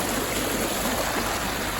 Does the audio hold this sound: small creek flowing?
yes